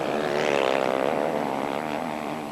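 Honda motocross motorcycles racing in an MX1 Grand Prix give a loud, close, sustained engine roar with rising and falling revs as the bikes pass, with no talk over it.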